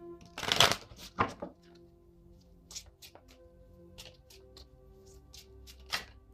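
Oracle cards being shuffled by hand, a quick burst of riffling papery flicks at the start followed by softer, scattered card slides and taps, close and fairly quiet with no talking.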